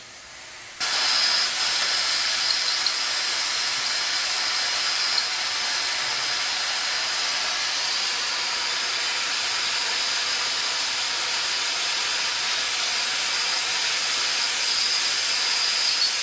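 An ArcCaptain Cut 50 plasma cutter burns into 1/4 inch steel angle with a loud, steady, harsh hiss that starts abruptly and holds unbroken for the whole stretch, with no talking.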